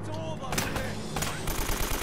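Rapid AK rifle fire in Uncharted: Drake's Fortune, sharp repeated bursts of gunshots crackling over game sounds for a couple of seconds.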